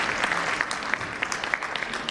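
An audience at a Hindi poetry recitation applauds steadily, a dense wash of many clapping hands at an even, sustained level.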